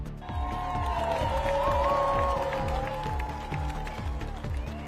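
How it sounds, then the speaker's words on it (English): A large outdoor crowd applauding at Sinead O'Connor's funeral procession in Ireland, sustained clapping and cheering under rhythmic footfall-like thumps and a drawn-out tonal sound. "The funeral procession in Ireland was met with spontaneous applause"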